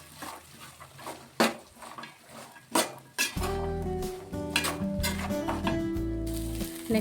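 Sabudana khichdi stirred in a pan: a spoon clinks and scrapes against the metal pan in scattered strokes, then a steady sizzle and rattle take over, close and fairly loud.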